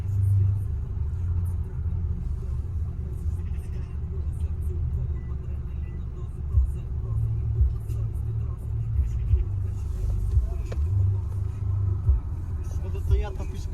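Inside a car driving a short way to a parking spot on a trip to Pniv Castle, a continuous low engine and road rumble holds steady throughout. People talk over it.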